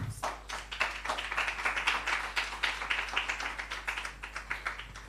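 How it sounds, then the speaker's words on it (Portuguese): A small group claps together during a live stream on history in Curaçao, the quick crisp claps close and fairly regular, swelling slightly in the middle and continuing steadily without talk. "Óbvio, um aplauso."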